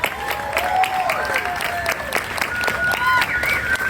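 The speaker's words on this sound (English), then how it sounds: "Big round of applause for everybody." Applause and cheering from a crowd at the opening ceremony of a Walking Dead attraction at Universal Studios Hollywood: steady clapping with whoops and shouts rising over it, lively and continuous.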